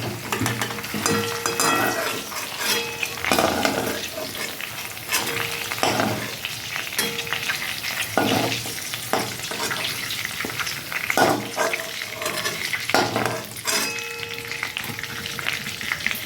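Potato and pointed gourd frying in hot oil, a loud continuous sizzle and crackle close by, broken by frequent stirring and scraping strokes, with no talk.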